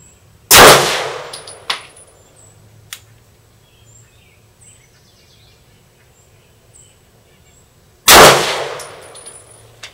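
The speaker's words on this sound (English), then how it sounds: "I'm doing a nice, smooth, slow fire right now and just trying to create a group." Two loud, sharp pistol shots from an HK P30L fired slowly at a range, spaced several seconds apart, each with a brief ringing decay and a faint clink in between.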